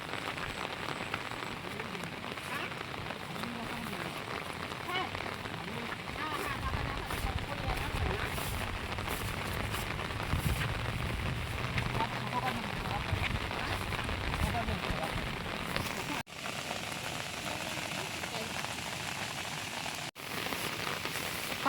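Heavy rain pours down steadily, a dense continuous hiss of drops striking surfaces outdoors, loud and unbroken for the whole stretch.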